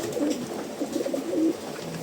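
A pigeon coos nearby, a soft low throaty warble lasting a couple of seconds.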